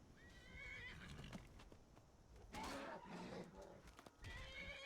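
A horse in the Skyrim video game whinnies loudly several times while fighting, its neighs rising and falling over a steady bed of game sounds and thudding clip-clop hoofbeats.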